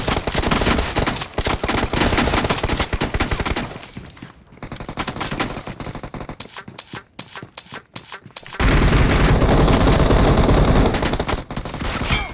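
Gunfire in the mobile battle-royale game BGMI (PUBG Mobile): dense, loud bursts of automatic shooting in the first few seconds, a choppier stretch of scattered shots in the middle, then a heavy sustained barrage to the end, with no talking.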